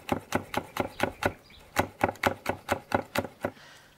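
A knife chopping chili peppers into small rings on a board for a Dutch-oven deer chili: a close, steady series of crisp wooden knocks, about a dozen in quick rhythm with a short pause midway.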